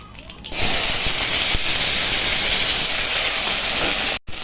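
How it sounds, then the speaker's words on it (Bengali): Nigella seeds (kalo jira) drop into hot oil in a karai and burst into a loud, steady hiss that holds for several seconds, cutting out briefly near the end, while cooking bitter gourd and potato fry. "কড়াই তেল দিয়ে দিচ্ছি, কালো জিরা দিয়ে দিলাম"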